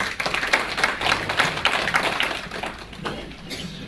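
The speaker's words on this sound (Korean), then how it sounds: "우리 김호경 의원님을 큰 박수로 맞아주시기 바랍니다" A local audience applauds to welcome a city council member at a neighbourhood civic briefing, a loose, uneven round of individual claps that are close and distinct, tapering off toward the end.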